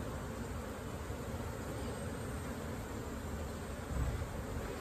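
Honey bees buzz inside an opened hive box with a deep brood box being added, a soft, steady, close hum of many insects that continues throughout.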